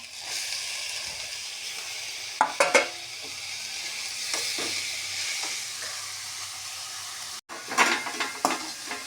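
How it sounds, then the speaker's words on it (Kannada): Chopped fenugreek leaves go into a hot pan for a palya, a continuous sizzle and hiss with a few sharp spatula scrapes and stirring knocks against the pan. "ಮೆಂತ್ಯ ಸೊಪ್ಪನ್ನು ಸಹ ಸೇರಿಸ್ಕೊಳ್ತೇನೆ"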